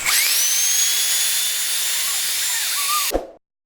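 An LG A9 cordless vacuum cleaner fitted with its wet mop kit runs with a steady, close high-pitched whine and airflow hiss, then cuts off abruptly near the end with a brief clunk.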